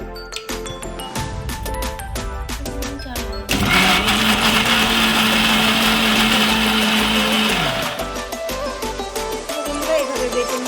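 Loud electric blender grinding fried paneer with spinach for palak paneer, starting abruptly with a steady high whir that holds for about four seconds, then cutting out, surrounded by kitchen clatter.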